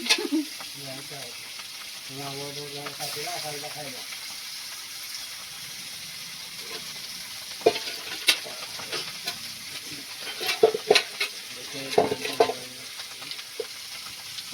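Fish frying in a pan gives a steady sizzling hiss with clinks and scrapes of utensils, while people talk nearby over the cooking sound.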